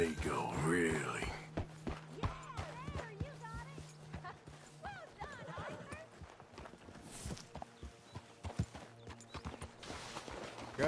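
Horse hooves clip-clop in Red Dead Redemption II as a horse walks on at an uneven pace, with nearby voices talking over the steps.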